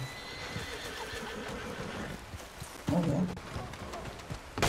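A horse in Red Dead Redemption 2 gives a loud, near whinny partway through, set against steady ambient game noise with light hoof clip-clops and rain-like background.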